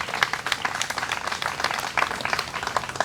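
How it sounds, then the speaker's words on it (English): Audience applause at a press briefing at a museum of art, scattered individual claps from a modest crowd, fairly soft and uneven, continuing throughout. "Please give that a round of applause."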